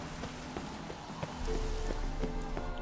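Steady rain hisses in the Witcher 3: Hearts of Stone game world, a continuous wash of patter with a few sharper drips and taps, thickening with a low rumble midway.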